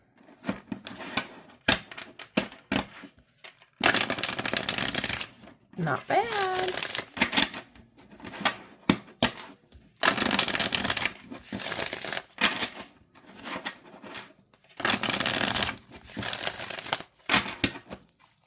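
Repeated bursts of a tarot deck (Ukiyo Tarot) being shuffled, riffling in several loud spells with short pauses, while a person talks briefly between them.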